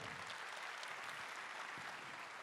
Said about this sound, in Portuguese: Pode aplaudir para valer